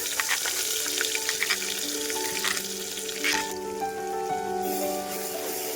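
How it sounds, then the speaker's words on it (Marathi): Steady, close sizzling of a ground spice paste frying in hot oil for an eggplant curry, with a few light stirring clicks and a faint tonal hum underneath. "व्यवस्थित तेलामध्ये मसाला भाजून घ्यायचा आहे"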